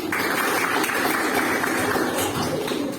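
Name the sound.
class applauding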